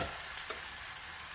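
Meat and rice frying together in a pan with bean sprouts, a quiet steady sizzle with faint stirring scrapes and small pops, no voices.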